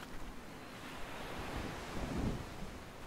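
Sea waves wash continuously in the background of the video game Human Resource Machine, a steady windy surf rumble at low-moderate level with no speech.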